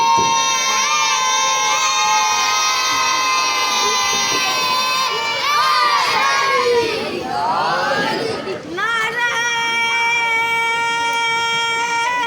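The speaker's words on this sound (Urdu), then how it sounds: "نعرے" A large crowd at a religious celebration of an Imam's birth chants slogans in unison, sustained, loud and near, with voices rising and swelling together and a brief dip before the chant resumes.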